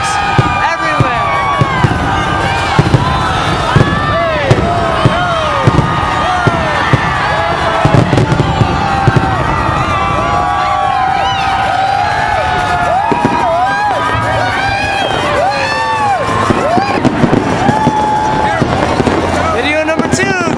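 Fireworks bursting in every direction across Las Vegas, constant sharp pops and crackles near and far with whistling rockets, amid a crowd with cheering and shouting voices throughout.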